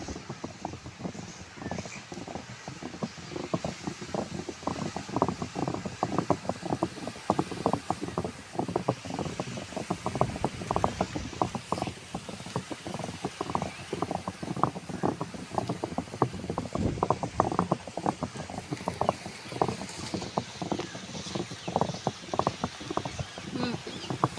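A wet grinder churns urad dal into batter, a loud continuous rumbling drone with rapid rhythmic thumping from the stone, steady throughout and close by.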